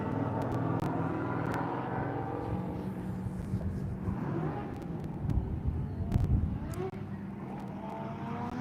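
A BMW E46 drift car's engine drones and swells while it drifts at a practice session in Cyprus, heard at a distance with brief louder surges, over crowd and background voices.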